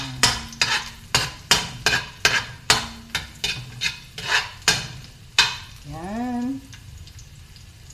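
Garlic browning in a pan with a steady sizzle as it is stirred, a utensil striking the pan in a quick run of distinct knocks, followed by a short tonal squeak and a softer hiss; a brief word is spoken.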